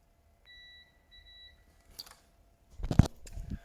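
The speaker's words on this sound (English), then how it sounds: "As you can hear the beep," A continuity tester checks a wire in a Land Rover Discovery 4 wiring loom: two short high electronic beeps, followed by faint handling clicks and a thump near the end.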